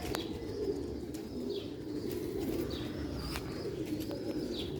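Soft, repeated pigeon cooing close by, mixed with a few light chirps over a low, constant background hum.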